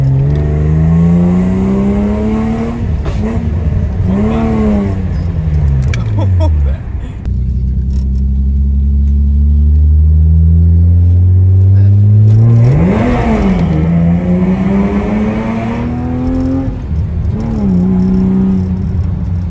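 Loud BMW E36 engine revving hard, with harmonics sweeping up and down through several rises and falls, a long sustained high rev near the middle, and a voice talking over parts of it.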